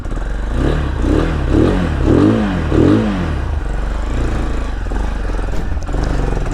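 A 250 cc dirt bike engine catches and revs in several rising bursts close by during a solo ride from Kavra to Kathmandu, then settles into a steady, loud idle rumble.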